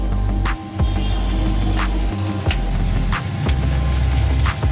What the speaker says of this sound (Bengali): আমার পেঁয়াজটা এখনো ভাজা হয়নি।